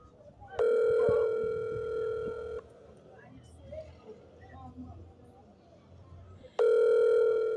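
A telephone ringing on an outgoing call to a woman, two loud sustained ring tones separated by a pause, with quiet talk in the gap.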